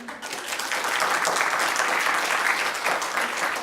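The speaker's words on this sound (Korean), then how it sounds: "크게 우리가 박수 쳐서 그들에게 응원해, 위로해, 보내자라고 제안을 합니다." A lecture audience claps steadily and loudly, a thick, even wash of applause with no break from start to finish.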